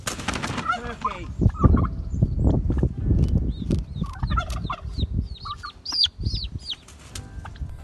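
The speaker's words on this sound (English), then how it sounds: "Turkey." Young turkeys gobbling and squawking while being caught on a farm, close and agitated calls with wing flapping and scuffling, rapid overlapping cries throughout.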